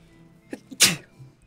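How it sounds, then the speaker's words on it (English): A single sharp human sneeze with a short breathy intake before it, close and alone, while crocheting with fuzzy black yarn. "I'm gonna sneeze again."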